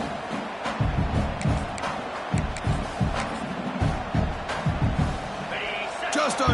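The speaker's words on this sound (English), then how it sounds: "this home crowd is fired up and ready to make a difference today" A fired-up home stadium crowd at a Penn State versus Oregon college football playoff game roars as a broad, steady wash of noise under continuous commentary, with thumps and swells of cheering throughout.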